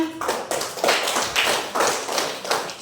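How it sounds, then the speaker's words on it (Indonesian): A small classroom group gives a few short bursts of clapping, uneven and close, with gaps between rounds. "Oke, terima kasih, tepuk tangan"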